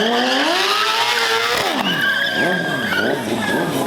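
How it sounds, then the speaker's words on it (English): A BMW stunt motorcycle with an SC Project exhaust does a burnout at a live stunt show, its rear tire squealing loudly and continuously while the engine roars, with the pitch of the squeal sweeping and wavering throughout. "he turns and burns, coming back one more time"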